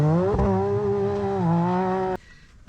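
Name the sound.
Can-Am Maverick R engine with RPM exhaust revving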